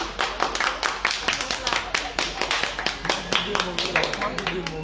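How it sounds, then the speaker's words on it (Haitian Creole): A small crowd claps warmly for an employee of the month, with a steady run of hand claps close by and people talking over the applause. "demander un bon applaudissement pour Johannes."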